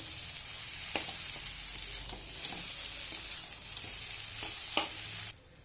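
Chow mein noodles frying in a pan are stirred after chow mein masala and a little sugar go in. A steady sizzle runs throughout, with scraping stir strokes at irregular intervals, and it cuts off abruptly near the end.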